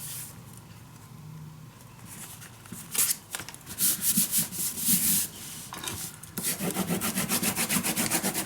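Paper is burnished down onto a mini album page, giving close, dry rubbing and scraping strokes in uneven bursts that grow more rhythmic toward the end.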